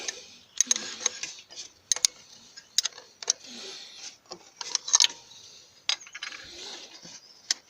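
A wrench loosens the timing belt tensioner bolt during a fuel injection pump replacement, giving a series of sharp metallic ratchet clicks and clinks in uneven bursts, close and fairly loud, with no talking.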